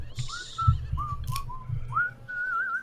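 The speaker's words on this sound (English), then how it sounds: "Whoever whistling, please stop." A person whistling short melodic notes and rising glides in a halting tune, fairly close and clear over a low background murmur.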